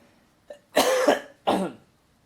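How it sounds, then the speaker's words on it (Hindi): A short throat sound followed by two distinct, harsh coughs, close and fairly loud, with quiet gaps between them. "सॉरी मुझे खांसी हो रही है"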